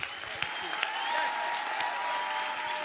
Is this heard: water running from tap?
no